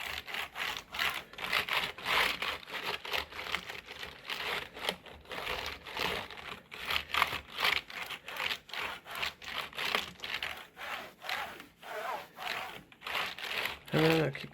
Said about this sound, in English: And then one more wipe, because you've brought loads of bits up.